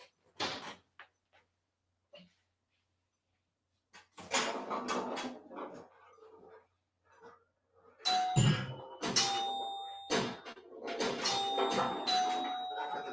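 Bright electronic bells and dings from the classic-style Moonflight pinball table in the Pinball FX VR video game ring out in bursts among clattering game effects, moderately loud with pauses between flurries.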